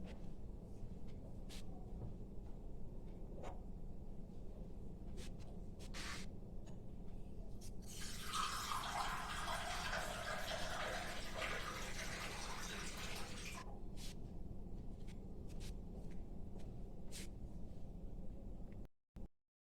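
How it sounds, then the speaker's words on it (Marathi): Running water splashes into a mixer jar as it is rinsed for several seconds amid faint clicks and background hum, then stops; no one speaks. "थोडं थोडं हे मिक्सरचं भांडं आपण धुवून घेऊयात"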